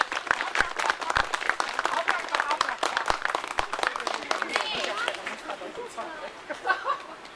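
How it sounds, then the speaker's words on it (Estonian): A group of children and adults claps hands together at a kindergarten graduation party: a dense burst of brisk, sharp claps that keeps going for several seconds, then thins and fades toward the end. "Meie plaksutame."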